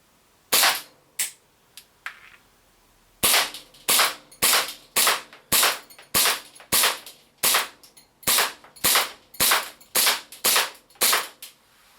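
A custom ARMY airsoft rifle fitted with a Costa compensator fires about fifteen sharp, loud snapping shots, a few spaced at first and then in a steady, evenly paced semi-auto rhythm.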